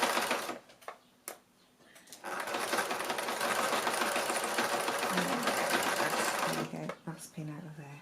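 Sewing machine doing free machine embroidery on a fabric seascape, running in rapid mechanical bursts with short stops and restarts, close and loud, with a voice speaking briefly between runs.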